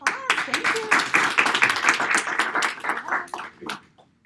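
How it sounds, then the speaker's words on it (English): A brief round of applause at a business workshop: dense clapping from a small group, with some voices mixed in, tapering off and ending abruptly. "Good round of applause"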